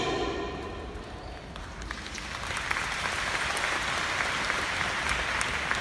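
An audience at a large Hong Kong conference hall breaks into dense, sustained applause that swells and stays loud and even throughout.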